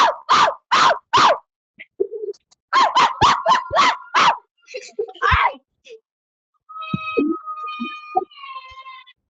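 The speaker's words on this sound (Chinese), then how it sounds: "狗狗叫" Two quick runs of sharp dog barks, four then five, followed by softer voices and a thin high electronic tone.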